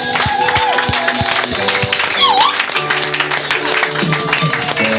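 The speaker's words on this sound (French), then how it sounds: "Clap for Jesus" Church congregation clapping for Jesus during a night service, a crowd's rhythmic applause mixed with voices and shouts, loud and sustained.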